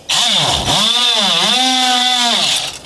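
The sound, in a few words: oscillating multi-tool cutting boat hull fiberglass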